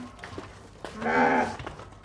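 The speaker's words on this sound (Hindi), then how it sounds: "ये देखिए ये सारे छतरे हैं, एक भेड़ है इनमें।" Young goats and a sheep, about six months old and kept for Qurbani, give one drawn-out bleat in the middle, with quieter shuffling and faint calls around it.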